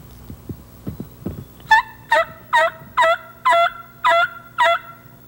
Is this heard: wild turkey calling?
yes